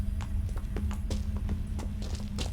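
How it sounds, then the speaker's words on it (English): Hooves of a spirit horse clip-clop steadily in The Witcher 3, several clear strikes over a low, constant droning game ambience, with no talk. "now this spirit is a horse"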